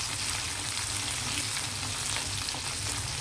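Dried prawns, split lentils and dried red chillies fry in hot oil with a continuous, close, crackling sizzle that stays even throughout.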